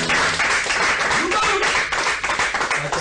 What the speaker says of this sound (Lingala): il y avait des émotions, on peut applaudir